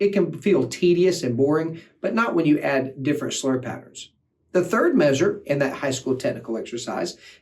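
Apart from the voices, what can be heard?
No everyday noises stand out.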